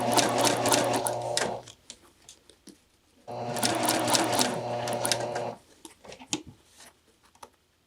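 A sewing machine stitches fabric around an inward curve in two steady bursts of running, separated by a brief pause with small handling sounds between.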